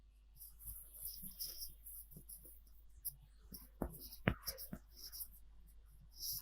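Marker or pen strokes on a board or paper while an equation is written out, quiet scratchy taps and squeaks in short bursts against a near-silent background, with no talking.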